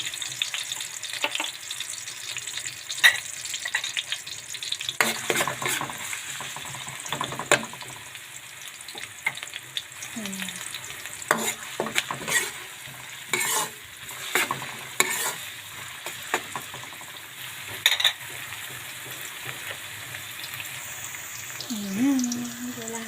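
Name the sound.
garlic frying in a pan for squid dish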